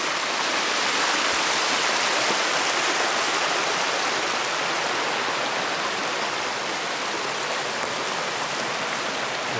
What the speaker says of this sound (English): The water flowing to the left over here, the water flowing in the middle of the trail over here.